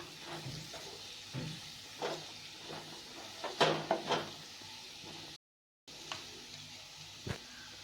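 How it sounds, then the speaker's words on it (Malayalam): Cooked banana stem sautéing with chili powder for pickle, a faint sizzle broken by a series of scraping stirs and clinks against the pan, with a brief gap of silence near the end. "ഇനി നമുക്ക് ഇതിനകത്തോട്ട് ആവശ്യത്തിനുള്ള മുളക് പൊടി മുളക് പൊടി ഒന്ന് വഴറ്റിയെടുക്കാം"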